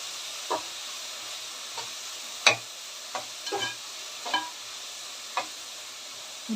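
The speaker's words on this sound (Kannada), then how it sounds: "ನೋಡಿ ಇವಾಗ ಚೆನ್ನಾಗಿ ಇದೆಲ್ಲ ಫ್ರೈ ಆಗ್ತಾ ಇದೆ" Ingredients frying in a little oil in a pan give a faint, steady sizzle, broken by occasional sharp ticks and scrapes of a spoon stirring at irregular intervals, with no voices.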